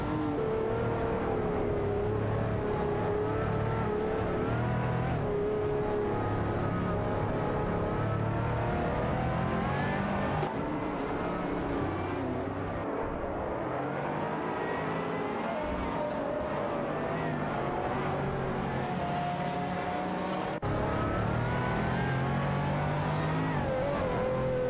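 Aston Martin and Audi race cars in an AI-driven racing video game, engines droning and shifting pitch continuously for the whole stretch, several cars overlapping at steady loudness with no talk.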